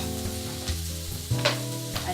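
Sliced jalapeno peppers hiss and crackle in a hot pan as they go in, a steady close sizzle with a few sharper bursts from stirring.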